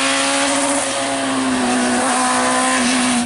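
A rally car passes on a snowy rally stage at the Ronde du Jura, its engine roaring loudly and steadily at high revs with a sustained tonal whine throughout.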